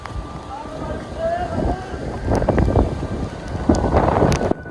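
A storm wind sweeps across the Dhaka–Chittagong highway in loud, rumbling gusts that buffet the microphone, and a person talks through it intermittently.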